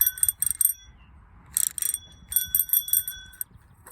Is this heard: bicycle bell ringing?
yes